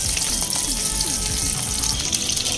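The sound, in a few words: cumin seeds and green chillies frying in oil, stirred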